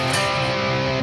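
An electric guitar in drop D tuning rings out a second set of dyads from a song, sustained, clear and close, with no talking.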